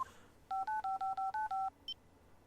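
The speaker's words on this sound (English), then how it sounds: "Try dialing the number that he gives us." Phone keypad dialing tones in the video game Apollo Justice: Ace Attorney, seven quick evenly spaced beeps as a number is entered, followed by a brief higher chirp, clear and alone.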